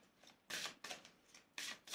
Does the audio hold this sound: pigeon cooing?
no